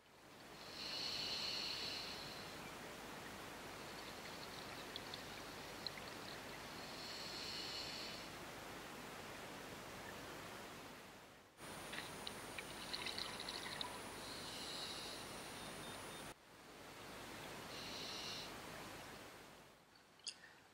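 Scuba divers' exhaled air bubbles rise and burble underwater in Cenderawasih Bay, coming in repeated bursts of bubbling and rushing between steady quieter stretches of faint underwater hiss.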